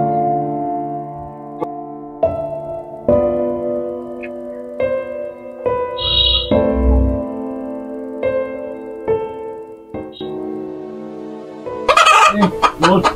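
Chickens clucking with a rooster crowing, a mix of tonal clucks and calls at moderate distance, ending in a louder crow near the close.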